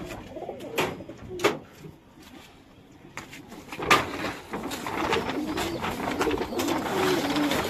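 Pigeons in a covered breeding setup coo steadily at close range, broken by a few sharp knocks and clatters early on, with no one talking.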